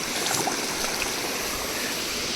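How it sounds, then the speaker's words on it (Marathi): A stream rushes steadily close by, a dense, even wash of flowing water with no voices over its short length. "खाली ओढा आले जोरात व्हायला लागलाय पाण्याचा आवाज यायला लागलाय"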